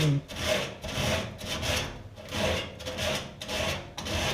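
Dual-action sander working over the inner fenders of a 1966 Ford Galaxie 500 convertible during restoration, still coated in factory black paint; a steady close abrasive rubbing that swells and eases in repeated passes, with no talk.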